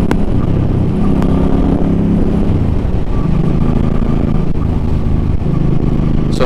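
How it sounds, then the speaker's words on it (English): A Suzuki M50 motorcycle with its stock exhaust runs close by, a loud, throbbing engine note that rises and falls as the rider works the throttle. "So this bike has the stock exhaust, and I like it. It sounds nice."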